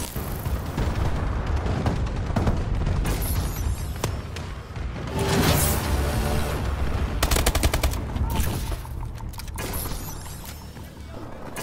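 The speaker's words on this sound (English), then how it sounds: "Friendly bombing run clearing the way" Repeated explosions from an airstrike in Call of Duty: Advanced Warfare on the map Ascend, with booming blasts and crackling gunfire mixed with game voice callouts, loud and continuous throughout.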